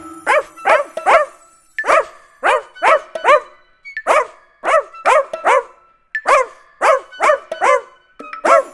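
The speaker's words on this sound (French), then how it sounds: "c'est lui mon petit chien." A dog barks sharply over and over in quick bursts of two or three, close and loud, with short pauses between the clusters.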